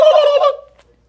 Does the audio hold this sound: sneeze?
no